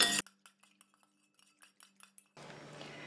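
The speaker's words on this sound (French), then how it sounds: "Je mets encore 3 g d'huile de ricin sulfatée. Je viens mélanger." A utensil stirring a mixture with sulfated castor oil in a container for a dog detangling spray makes light, irregular clinks and taps close by, followed by a burst of steady noise.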